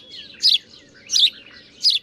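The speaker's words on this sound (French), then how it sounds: "le petit Pierrot, le moineau domestique" A house sparrow gives three bright, short chirps spaced evenly about 0.7 seconds apart, loud and close against a quiet low background hum.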